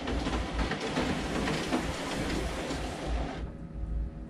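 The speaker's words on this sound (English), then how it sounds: "press the start key and it will feed the additional sheets" A copier's document feeder pulls a stack of sheets through, producing a steady, loud, dense mechanical clatter and whir that runs continuously for about three and a half seconds before dropping to a quieter hum.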